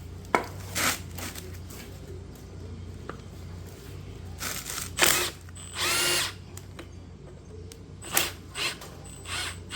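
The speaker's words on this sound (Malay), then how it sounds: "Di sini saya guna impact." An impact wrench works the nut on the rear shock absorber of a Proton Saga VVT, firing in short rattling bursts separated by quieter gaps, close by in a workshop.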